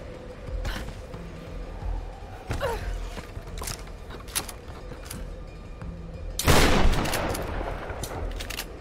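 Gunfire in the video game Tomb Raider, a few sharp shots spaced apart followed by a louder burst of rapid fire, heard over steady game ambience.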